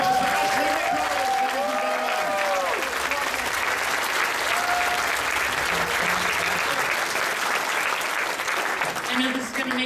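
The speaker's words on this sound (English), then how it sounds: "Huge round of applause." Sustained applause from a convention audience at a closing ceremony, loud and continuous throughout, with cheers and a few voices mixed into the clapping.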